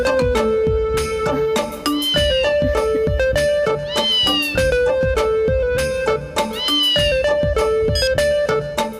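Repeated cat meows rise in pitch over loud, steady rhythmic music, the calls recurring several times across the stretch with no talk.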